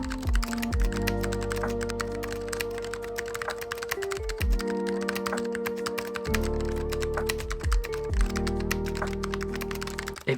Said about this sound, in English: we're ready to get a feel for the typing experience on the keyboard.